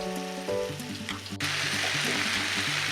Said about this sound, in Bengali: বিট গাজরের পুর কিন্তু একেবারে রেডি, পুরোপুরি ভাজা ভাজা হয়ে গেছে।